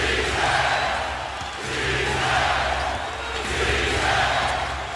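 An arena crowd at a Heat–Celtics basketball game 5 rises and cheers late in the fourth quarter, a dense roar that swells, eases slightly, then builds again.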